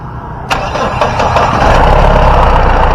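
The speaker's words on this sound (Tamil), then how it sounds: "வண்டியோட இன்ஜின் சவுண்ட் எப்படி இருக்குது அப்படின்றத கேட்போம்" A Mahindra Bolero engine cranks and fires up abruptly, then settles into a steady, loud, rumbling idle close by.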